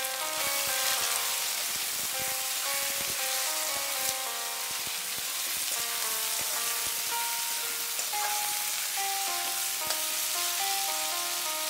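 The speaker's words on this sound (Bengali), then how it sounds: "এই পেঁয়াজগুলোকে লাল করে ভেজে নেব।" Chopped onions and a garlic clove frying in a pan for mutton masala curry, a continuous soft sizzle with scattered crackles and pops, fairly close and even, with some tonal clinks over the bubbling.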